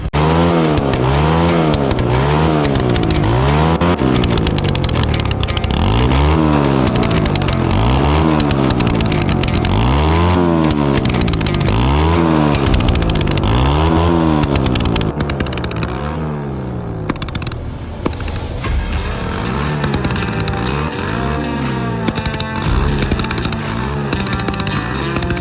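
A Suzuki scooter fitted with a modified flame-throwing silencer revs hard in repeated rising-and-falling bursts, a loud close engine note swelling and dropping about every two seconds, then settling into rougher, choppier revving with crackles.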